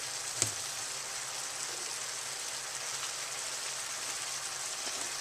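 Sauteed onions and mushrooms sizzle steadily in a pan, a soft continuous hiss like light rain, with one brief clink near the start and no talking.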